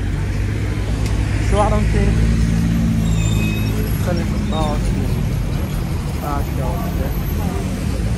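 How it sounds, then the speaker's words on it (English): Street traffic in Nzeng Ayong, Gabon: a steady low rumble of cars and other vehicles passing nearby, with someone talking over the engine noise throughout. "All you see just cars, vehicles moving."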